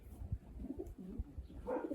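Pigeons coo softly in a loft, with low throaty murmurs rising and falling over two seconds, close by and with no talk.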